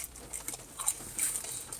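Rain patters outdoors in a soft, steady, irregular texture, faint and close, with no voices over it.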